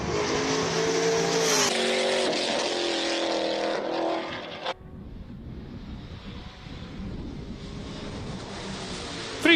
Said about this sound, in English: Franco Di Matteo launches the Ford Mustang.